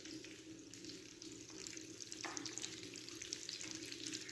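Marinated black tuna frying in a pan: a steady, close sizzle with crackling that grows slightly louder as the fish settles into the hot oil, with no talking.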